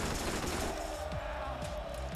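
SMG fire in Borderlands rattles in rapid bursts, a dense stream of shots followed by spaced repeated pops, loud and close, with a voice talking over it.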